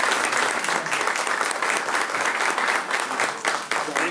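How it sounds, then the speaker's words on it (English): Audience members at a local candidate forum give the candidates a steady round of applause, dense clapping with slight rhythmic swells and no voices over it. "applause."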